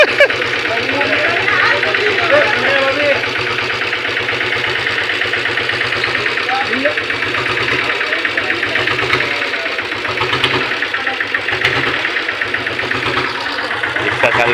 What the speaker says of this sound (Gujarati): રિક્ષા ચાલુ થઈ ગઈ છે